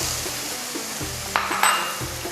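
Blended chili paste and fish curry spices for tuna curry hit a hot pan, giving a steady soft sizzle with a few clinks of a utensil against the pan.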